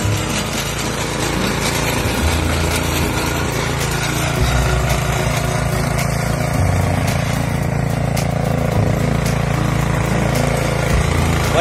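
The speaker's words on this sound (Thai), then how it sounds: "นี่ครับไอ้เครื่องตัดหญ้าตัวใหม่ที่เราเอามาลองตัดครับ" A new ride-on lawn mower cutting thick grass runs steadily and loudly nearby, its buzzing engine drone continuous without pause.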